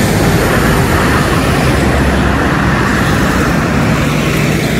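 Steady, loud road traffic on the Claudia Lars highway in El Salvador, a continuous broadband roar of passing vehicles with no pauses and no voices, close to the roadside.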